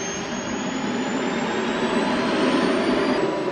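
A helicopter engine roars loud and steady throughout, a dense whining drone with a faint rising turbine tone, close and constant with no talking.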